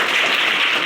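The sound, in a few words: applause for the teacher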